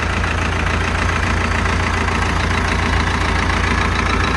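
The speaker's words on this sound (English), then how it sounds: "Just your basic run-of-the-mill 46 horsepower" A 46 horsepower tractor engine idles in a steady, continuous drone with a broad mechanical rumble, holding the same level from start to finish with no voices.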